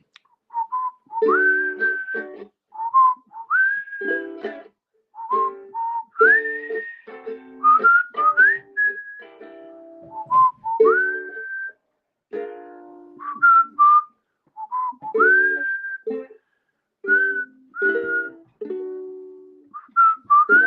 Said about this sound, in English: that whistling version was a flop